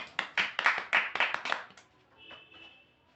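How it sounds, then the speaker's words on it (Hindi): A small group in a classroom claps about eight times in an uneven burst, close and fairly quiet, then trails off into faint sounds. "ताली बजाना दे।"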